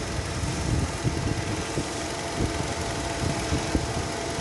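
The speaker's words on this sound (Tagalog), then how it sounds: "Ang kanyang problema, engine misfire." A 2013 Hyundai Accent with a 1.6 MPI gamma engine idles with a misfire, a steady close mechanical drone marked by uneven little knocks and stumbles in the rhythm.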